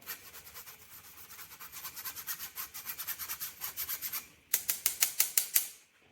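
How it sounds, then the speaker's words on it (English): Flour and custard powder are sieved into a bowl with rapid, rhythmic rasping shakes. The shaking is steady at first, then comes in sharper, louder strokes near the end before stopping, close and alone. "So you want to sieve that in, and particularly with the custard powder can get a bit lumpy"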